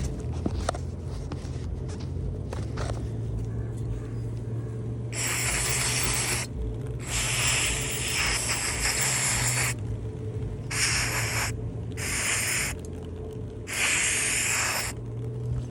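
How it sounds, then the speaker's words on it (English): Throttle body cleaner sprayed onto the electronic throttle body of a 2019 Chevrolet Malibu 1.5L, several loud hissing bursts of a few seconds each with short pauses between, over a low engine-bay hum. "So I'm gonna spray it down a little bit better."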